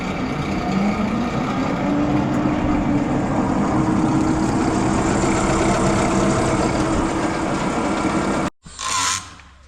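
A Cummins diesel engine idles steadily with a loud, low, constant rumble, close by, and cuts off abruptly near the end, followed by a brief faint noise.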